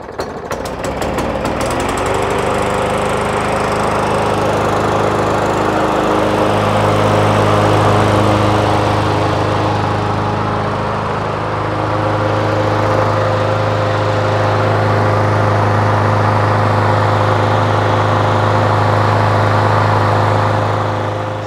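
A Craftsman M100 lawn mower engine starts and runs, settling into a loud, steady buzzing drone with a slight rise and dip in intensity, with no voices.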